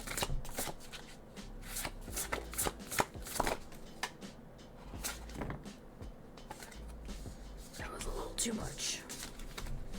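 A deck of tarot cards is shuffled close up in a series of crisp riffling and tapping bursts, with soft whispered speech between them.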